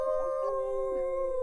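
Several people imitate wolf howls with their voices, long sustained wavering wails that overlap and hold steady at moderate loudness through the whole stretch, with no other talk.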